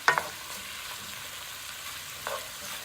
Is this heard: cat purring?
no